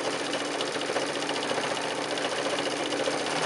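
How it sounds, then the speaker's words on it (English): A sewing machine stitches a quilted table runner seam, its motor whirring steadily and continuously up close for a few seconds with no talking. "We're just sewing this down, matching up these edges."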